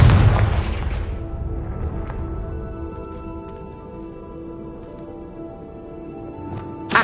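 A loud booming blast from the Confringo explosion spell in the video game Hogwarts Legacy opens the clip, its low rumble decaying over several seconds, with a second burst starting right at the end.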